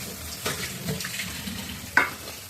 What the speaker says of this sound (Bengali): এবার দিয়ে দেবো ঝোলটা।